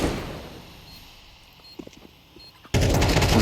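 Gunfire in the Counter-Strike video game during an ESL Pro League esports match, faint distant shots and small sharp cracks after a fading boom, then an abrupt burst of loud, rapid automatic fire at the end.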